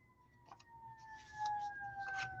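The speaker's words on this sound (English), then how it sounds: "I don't know if you can hear the fire trucks and ambulance." Distant fire truck and ambulance sirens wail outdoors near a police and fire station, a faint steady tone sliding slowly downward beneath soft background noise.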